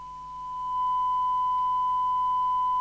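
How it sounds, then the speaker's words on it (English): A steady pure tone from a repaired Grandstand P2004 4-channel 2W CB handheld radio, a clean constant whine that swells slightly in the first second and then holds level and alone. "you see we've now got a sine wave instead of a dreadful square. Actually sounds like a radio now."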